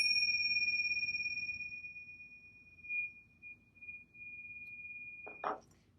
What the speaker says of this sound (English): What do you think ringing a bowl means like this?